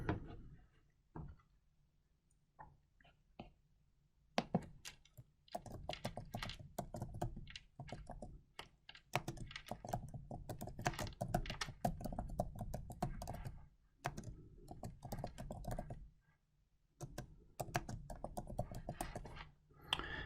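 Fingers type on a computer keyboard to fill in a password entry, in quiet bursts of rapid keystrokes broken by short pauses, close and alone.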